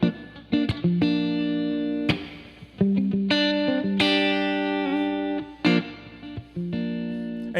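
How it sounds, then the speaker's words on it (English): Electric guitar played through reverb and delay effects, with sustained chords and single notes ringing out and echoing between sharp plucked attacks, loud and close. "Verb and delay to me are like salt and pepper."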